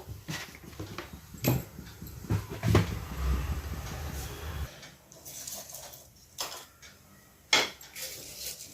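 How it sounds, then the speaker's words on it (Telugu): Onions with their skins on pounded coarsely for gongura chutney, uneven heavy thuds and knocks on a hard surface, with clattering kitchen clunks later on, no talk. "ఇగో ఉల్లిపాయలు దంచుకుంటున్నా కచ్చాపిచ్చ దంచుకోవాలి ఇవి పొట్టుతోనే దంచుకోవాలి"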